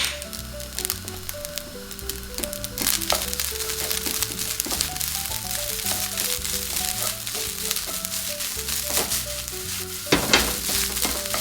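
Rice with spinach stir-fries in a hot pan, a steady loud sizzle running throughout with scraping tosses and clinks, while music plays underneath.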